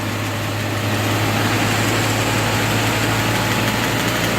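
A steady, close engine drone holds at raised RPM in third gear during a lockup pressure test on a 47/48RH automatic transmission, with a constant low hum and no voices.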